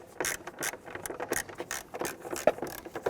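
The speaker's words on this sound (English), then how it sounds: "Going to use our 10mm socket and extension." A 10mm socket on an extension and ratchet works a nut off a stud under the battery tray of a 1999-2004 Jeep Grand Cherokee 4.7L V8, giving quiet, irregular close-up clicks and scrapes.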